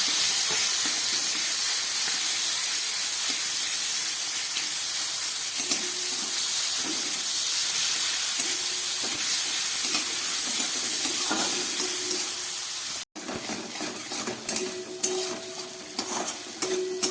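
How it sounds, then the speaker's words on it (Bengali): Prawns fry in oil left from frying lentil dumplings, a steady loud sizzle and hiss with occasional stirring scrapes in the pan; the sound briefly cuts out near the end, then resumes close up. "বড়ি ভাজা তেলের মধ্যে আমি চিংড়ি মাছগুলোকে একটু ভেজে"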